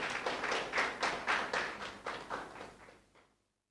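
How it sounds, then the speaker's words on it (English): Audience applause at a student debate festival, a burst of clapping with a rhythmic pulse that swells, then gradually fades out to silence. "Once again, a round of applause."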